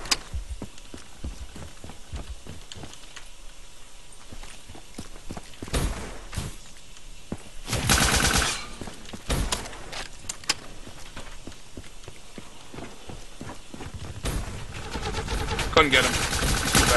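Gunfire from Call of Duty: Black Ops 3 multiplayer, with scattered single shots and a few short bursts, some loud and near, mixed with movement noise and heard under occasional talk.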